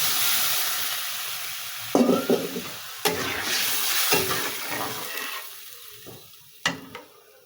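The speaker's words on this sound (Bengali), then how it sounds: "এবার সুন্দর করে ভেজে নিতে হবে সুন্দর করে ভেজে নিলাম" Tengra fish and potatoes frying in a pan, a steady sizzling hiss with scrapes and clanks of a utensil being stirred through the pan at intervals.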